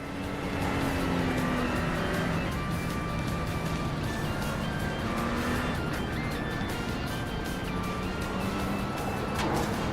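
Engines of racing cars in iRacing, among them a Porsche 992 alongside and a McLaren behind, drone steadily and loudly throughout, with shifting pitch lines as cars run close together.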